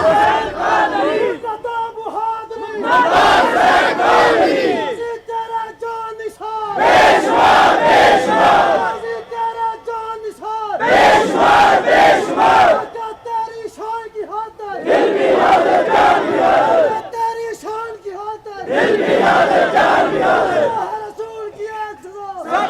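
A large crowd at a religious memorial gathering chants slogans in loud, rhythmic bursts, about five distinct waves of massed voices separated by brief lulls, with a voice leading between them.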